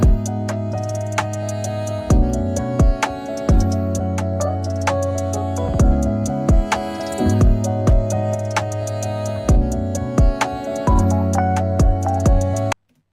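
Full music mix with a driving drum loop run through a parallel bus compressor plugin, dense and punchy with steady kick and snare hits under sustained bass and harmony, loud and continuous before stopping abruptly.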